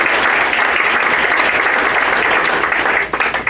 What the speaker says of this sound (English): Let's give Rodney a big round of applause.